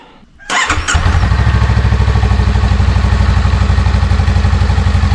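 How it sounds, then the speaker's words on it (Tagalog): A Honda Rebel 500 engine with stock exhaust cranks and fires up nearby, then settles into a steady, even idle with a rhythmic exhaust putter. "Pakinggan nyo yung tunog ng kanyang stock exhaust."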